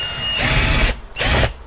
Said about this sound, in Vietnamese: Rồi bây giờ mình sẽ thử khoan trên miếng gỗ này ha.